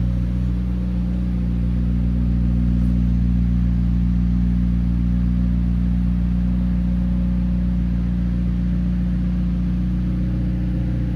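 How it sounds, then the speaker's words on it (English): A 2025 McLaren 750S engine idles with a steady, deep exhaust rumble, holding a constant low drone without clear revs. "I'm gonna put some exhaust clips as well."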